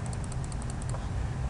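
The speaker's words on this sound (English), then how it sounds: "it's really as simple as typing that into the calculator" Rapid keypresses on a calculator as numbers are entered for a normal distribution problem, a quick run of about ten light clicks under a steady low background hum, with no talk.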